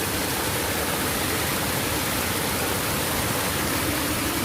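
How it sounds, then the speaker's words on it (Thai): Water flows steadily into a pond beside rice fields on a morning outdoors, a loud, close, unbroken broadband rush like a small stream or spillway, with no voices heard. "มีน้ำไหลด้วยค่ะ"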